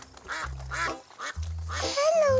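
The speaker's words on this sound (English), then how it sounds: "And Eleanor talks to a family of ducks." A family of ducks quack in a cartoon episode, several rhythmic bursts of animated quacking over a low backing tone, with a brief high whistle-like call at the end.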